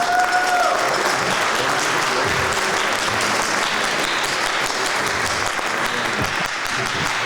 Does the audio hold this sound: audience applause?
yes